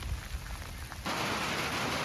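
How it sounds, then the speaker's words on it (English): Rain falls steadily during an outdoor goose hunt in Pennsylvania, a dense hiss of drops that suddenly swells louder and heavier halfway through, with no voices. "We're hiding from the rain now."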